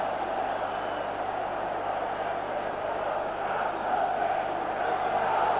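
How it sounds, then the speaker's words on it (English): Italian football fans in a stadium at a Champions League match between Milan and Real Madrid raise a broad, sustained roar of ironic cheering that swells slightly toward the end. "that certainly produced some ironic cheering from the Italian fans who know all about Sanchez"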